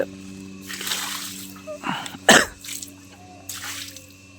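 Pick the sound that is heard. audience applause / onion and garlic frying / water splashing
water splashing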